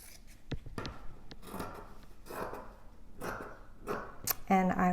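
Fabric pieces for the back of a tiny art quilt heart being trimmed with scissors, giving several short close snips and cuts with quiet pauses between and faint talk.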